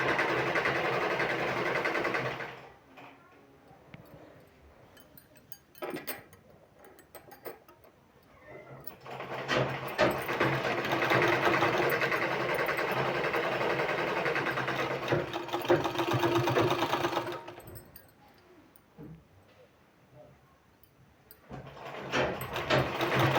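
Stitching a garment sleeve, a sewing machine runs in long steady stretches of close, buzzing whir, broken by quieter gaps where it slows or stops between seams.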